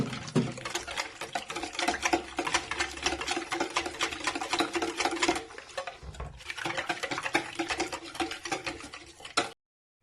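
Eggs and sugar being whisked for pizza dough, a steady quick clatter of a whisk against a bowl that runs for several seconds, pauses briefly, then resumes before stopping.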